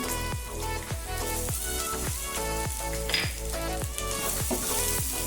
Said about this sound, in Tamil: பீட்ரூட் நல்லா வதக்கி விட்டுக்கலாம்.